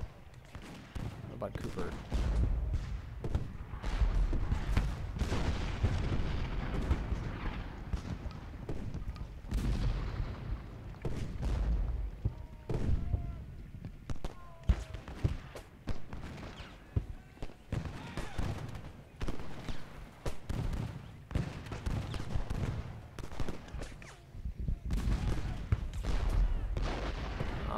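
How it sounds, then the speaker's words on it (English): Artillery shells firing in the Civil War strategy game Ultimate General: Gettysburg, a dense, continuous rumble of booming cannon and crackling volleys throughout, with players talking over the battle. "Shooting shells at Johnson here."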